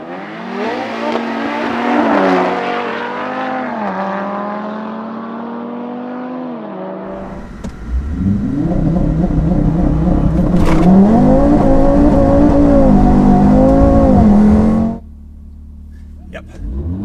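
A 510 bhp Audi RS3 and a 475 bhp Audi S3 launch side by side in a drag race, engines revving loud and near, pitch rising through several gear changes before cutting off abruptly to a low idle.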